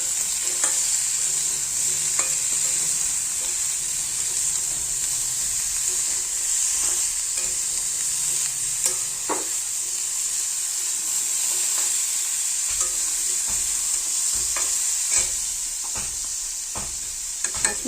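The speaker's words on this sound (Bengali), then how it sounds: "ভালো করে এবার এগুলো ভেজে নেব" Bata fish pieces with drumsticks, turmeric and salt fry in hot oil, a loud, continuous sizzle and hiss with scattered stirring scrapes and spatters throughout.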